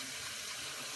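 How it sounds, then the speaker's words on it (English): Running tap water pours steadily over a Hagen shaving brush as it is rinsed, a soft, even hiss and splash close by with no voices. "I'm sitting here rinsing out this Hagen brush"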